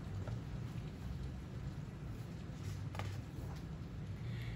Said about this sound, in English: it's raining so hard outside. Can you hear it?